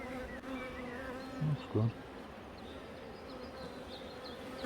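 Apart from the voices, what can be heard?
honeybees buzzing at a hive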